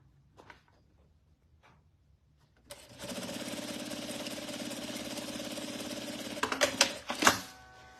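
After a few faint clicks, a sewing machine starts stitching the first seam of a crossbody bag, a steady close whirring hum for about four seconds that ends in a few sharp clunks.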